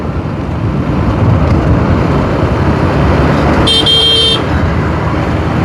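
Steady roadside traffic roar on the Dhaka–Mymensingh highway at Amtali Bazar, Bhaluka, with one loud car horn blast lasting about half a second partway through, no talking.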